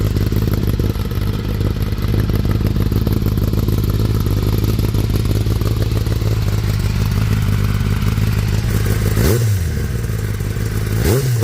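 2023 Kawasaki Ninja ZX10R with a dB killer fitted in the exhaust, a loud close engine rumbling deep and steady at idle before two sharp throttle blips rev up and fall back near the end.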